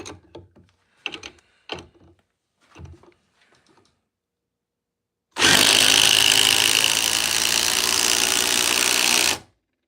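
A Surge Gen 2 impact driver runs at speed 3, a loud, close, continuous high-pitched whine lasting about four seconds after a few short knocks and taps.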